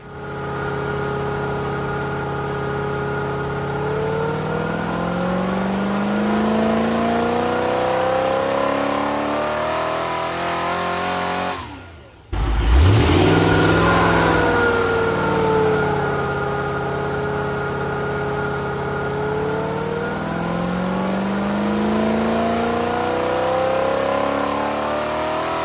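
A Rover V8 3.9 engine on a dyno rises in a long, loud rev sweep, cuts out briefly with a sharp gap partway through, then picks up again and climbs through another steady sweep.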